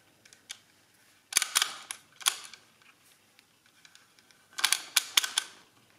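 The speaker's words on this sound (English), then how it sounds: "when you move any of the beads to the right, it clicks past this gear and that increments the counter" Sharp mechanical clicks from the counter gear of a toy bead calculating frame as beads slide past it, coming in quick clustered bursts separated by near-quiet gaps, close and fairly crisp.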